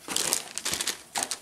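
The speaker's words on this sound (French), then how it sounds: "il me reste plus qu'à mettre le petit papier, la carte bien sûr, la carte et les petits papiers" Paper crinkled and crumpled by hand while packing a parcel, close and fairly soft, in a few rustling bursts with short pauses between them.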